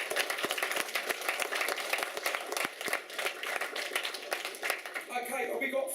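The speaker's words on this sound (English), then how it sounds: "Big round of applause for them two guys." Applause at a mixed martial arts press conference, a dense, continuous crowd clapping that holds steady and then thins toward the end, with voices mixed in.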